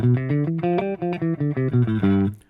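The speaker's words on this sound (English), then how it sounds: "Here's our Mixolydian mode." A distorted electric guitar plays a stepwise Mixolydian mode scale run, each note sustained briefly in a steady rhythm, ending on a held note.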